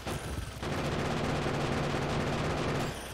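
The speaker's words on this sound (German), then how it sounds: "Weiter schießen." Sustained automatic gunfire in the factory-building video game Factorio, a dense, continuous rattle of rapid shots at steady loudness for about three seconds with no talking over it.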